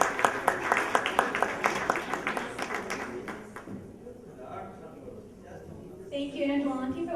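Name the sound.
applause for a conference speaker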